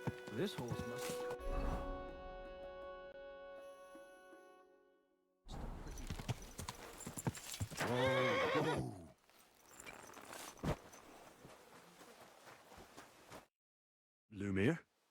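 A horse in the medieval game Kingdom Come: Deliverance 2 gives a loud whinny, followed by a stretch of clip-clopping hooves and another short neigh, with someone speaking calmly to it between sounds.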